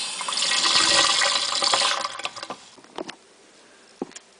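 Water gushes loudly from washing machine fill hoses into a drain for about two seconds, then is shut off, leaving a few faint knocks and splashes.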